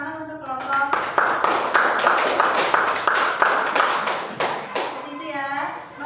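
A classroom bursts into brisk applause for a student group, many hands clapping steadily for several seconds before tapering off, with children's voices and an adult voice heard around it.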